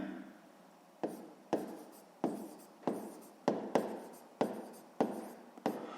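Pen or pencil writing by hand on paper while working through a sixth-grade maths exercise, a steady scratching in about nine short bursts, close and clear with no talk.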